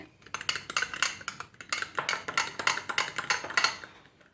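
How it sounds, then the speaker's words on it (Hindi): Fork whisking yeast in a bowl for a tawa mini chicken tikka pizza dough, rapid rhythmic metallic clinks and scrapes against the bowl, close and steady throughout. "आपने जो ईस्ट है वो इसमें फोक की मदद से मिक्स कर लेना है"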